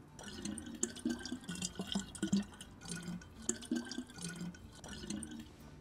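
Water trickling and dripping as a bottle is filled in the survival video game DayZ, a faint, uneven run of splashy drips with low tonal in-game ambience beneath.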